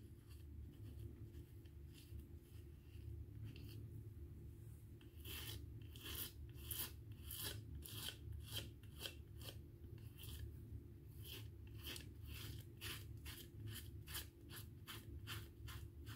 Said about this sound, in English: Can hear how much stubble there is left when you can operate this razor